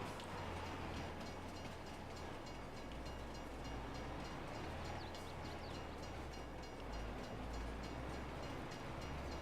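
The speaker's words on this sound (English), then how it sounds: "There's a train coming." A train rolls past in the video game Farming Simulator 22, a loud continuous rumble of wheels and wagons holding steady throughout, with a faint horn note mixed in.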